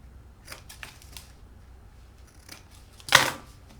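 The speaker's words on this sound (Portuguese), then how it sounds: "Então agora eu vou só cortar aqui, ó, as pontinhas na diagonal" Scissors snip the corners of sewn patchwork fabric diagonally for a small pudding-technique bag, giving a few soft, faint cuts and then one louder, sharper close snip near the end, with no talking.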